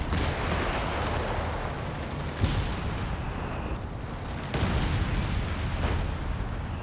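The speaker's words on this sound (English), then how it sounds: ".88 with the incendiary munitions, doing some big damage." In Company of Heroes 3, an 88 gun fires incendiary munitions, heard as dense, loud booms and crackling explosions with sharp blasts near 2.5 and 4.5 seconds over a continuous roar of battle.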